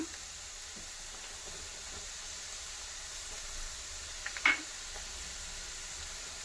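Chicken pieces fry in a pan for a chicken pickle, giving a faint, steady sizzle and hiss with a few brief clinks or stirring scrapes near the end.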